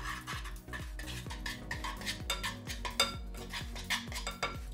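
A spoon stirs cherry flavoring and red food coloring into a hot homemade candy mixture, giving a rhythmic series of close scraping clinks against the bowl, about two strokes a second, with a faint sizzle underneath.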